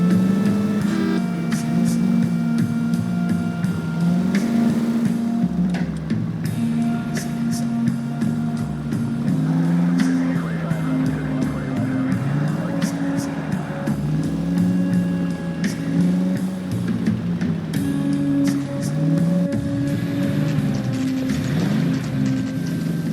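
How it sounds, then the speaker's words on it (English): Street racing cars in L.A. Noire, engines droning steadily with pitch swells and dips as vehicles rev and shift, loud and continuous, with music or game sound layered on top. "Suspect vehicles engaged in illegal street racing."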